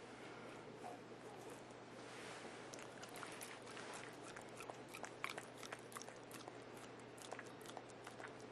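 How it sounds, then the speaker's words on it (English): A pet chews and licks peanut butter up close, with repeated wet smacking and crunchy bites in a steady, irregular rhythm and no talking. "Is that yummy peanut butter, Boomer?"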